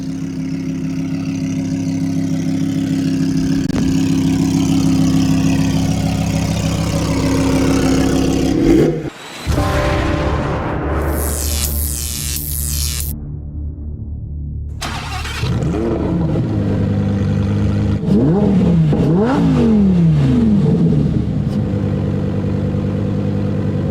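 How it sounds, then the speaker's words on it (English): A V10 engine idles with a deep, steady rumble while warming up, then revs sharply several times, the pitch climbing and falling in loud, close bursts. "We are now just getting this engine up to operating temperature. And I'm gonna do some revs here"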